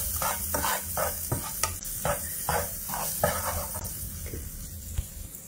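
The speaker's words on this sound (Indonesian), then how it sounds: "Terusnya kita gorengkan sekali, tumiskan sekali supaya naik bau." Chili seasoning being stir-fried in a pan for spicy broccoli, with rhythmic scraping strokes of the spatula over a steady sizzle, close and clear with no talking.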